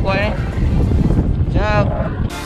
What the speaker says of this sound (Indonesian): Angin dah kuat.